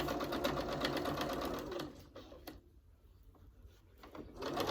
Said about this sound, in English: quilt square, sew it at 1/4 of an inch